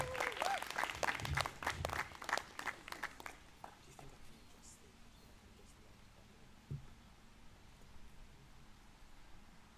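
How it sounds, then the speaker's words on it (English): An audience at an outdoor evening poetry event in St James Gardens gives a short burst of applause that dies away within a few seconds, leaving faint open-air quiet. "Big round of applause for George"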